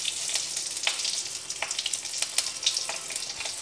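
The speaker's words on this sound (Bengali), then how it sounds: "জিরে ফোড়ন দিলাম, আর একটু কাঁচা লঙ্কা ফোড়ন দেবো।" Cumin seeds and green chili fry in hot oil, giving a bright, crackling sizzle with small pops that holds steady throughout, close and without voices.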